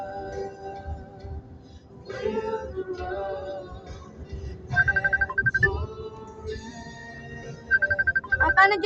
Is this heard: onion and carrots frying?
no